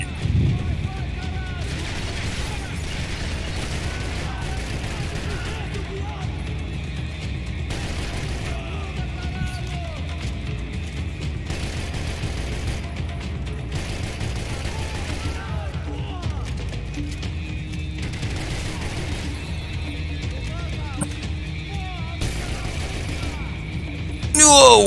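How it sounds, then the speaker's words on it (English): Grenade blasts and gunfire in the Max Payne shooter, a dense, continuous barrage of booms and shots with a voice talking over the chaos throughout. "Oh no, that's another grenade."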